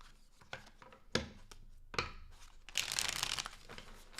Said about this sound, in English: Last shuffle for Leos for August 2023.